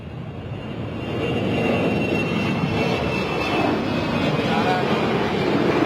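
Airplane rolling for takeoff at London City Airport, a broad engine roar that swells in from quieter background and holds loud and steady as the aircraft accelerates, heard from a distance.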